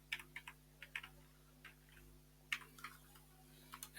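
Quiet computer keyboard typing: a run of light, irregular key clicks with short pauses, alone over a faint steady hum while a search term is entered.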